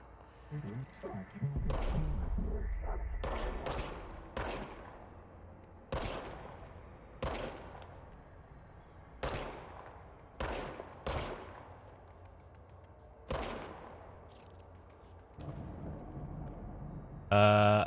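Single shots from the service weapon in the video game Control, about a dozen sharp reports spaced irregularly over a low hum, with a louder burst of activity near the start.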